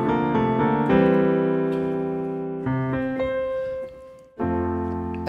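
Country-style piano played in tempo, with a low C and a high C among chords and single notes in a steady rhythm, close and clear with no voices.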